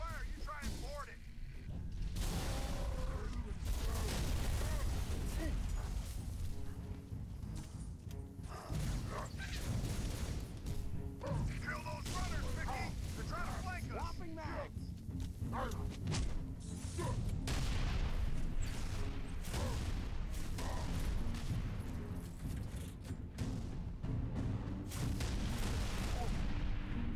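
A Covenant Wraith firing in Halo 3 ODST, with repeated booming explosions and whooshing shots amid ongoing combat noise, while voices talk over the battle.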